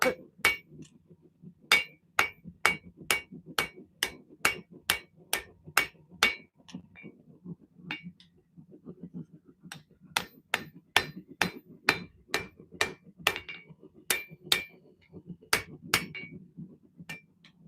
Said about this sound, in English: I'm hitting the handle like this so it stretches it out longer.